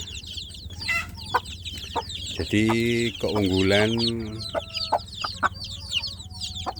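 Kampung chicken chicks peep in rapid, continuous high chirps inside a plywood box, while the mother hen breaks in with a few louder, drawn-out clucks close by; someone briefly speaks between them.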